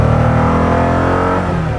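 A Koenigsegg supercar engine revs hard and close, a loud, dense roar with a slight falling pitch sustained throughout.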